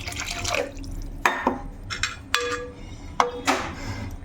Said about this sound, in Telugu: కొంచెం వాటర్ వేసుకున్నాము.